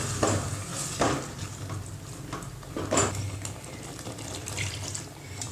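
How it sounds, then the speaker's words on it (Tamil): Tamarind water poured into a pan of Kerala fish curry masala with sautéed tomato, a broad wet splashing wash with a few brief louder bursts over steady low cooking noise. "வதக்கி விட்டு நம்ம கரைச்சி வச்ச புளியை இதில் சேர்த்துடலாம்."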